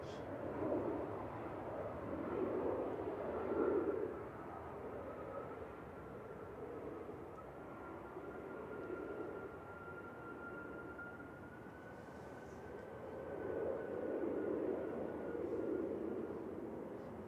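An Eastern Airways plane rolls along the runway at Manchester Airport, a faint, distant, steady jet drone with a thin whine that swells and fades softly across the stretch.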